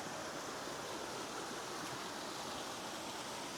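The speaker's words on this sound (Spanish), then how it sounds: "Ese es el ruido del agua que se oye" Running water rushes nearby in a Colombian outdoor setting, a steady, dense roar like a stream or small waterfall, continuous and unbroken throughout.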